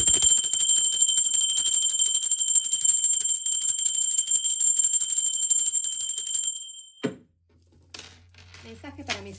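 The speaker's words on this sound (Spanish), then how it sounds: "Va campana" A bell rings with a bright, sustained metallic tone and rapid repeated strikes, loud and close, for several seconds before stopping abruptly. Faint clatter and a low hum follow.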